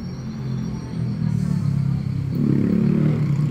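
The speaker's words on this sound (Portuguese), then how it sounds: "pensa umas motos barulhentas," Noisy motorcycles pass by on a street, their deep engine rumble and revving building in waves and growing louder toward the end, with no speech over them.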